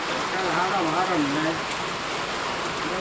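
Steady rain falls outdoors on farmland with a soft, even hiss, while someone talks over it for the first half.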